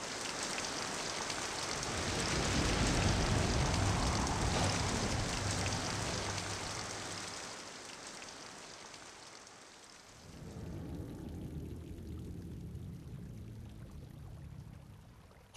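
Heavy rain pours steadily with gusting wind in an animated cartoon scene, loud and dense at first, dropping briefly near ten seconds before the downpour resumes at a lower level.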